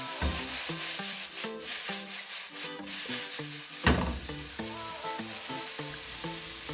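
Garlic sizzles in a frying pan, a steady close hiss with stirring scrapes and one sharper knock midway, loud and continuous, without talk.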